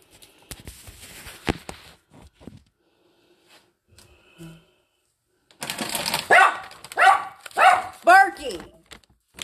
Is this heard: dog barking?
yes